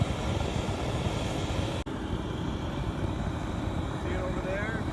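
Salt-melting furnace burning hot, giving a loud, steady, close roaring rumble throughout, with one brief sharp dropout partway through.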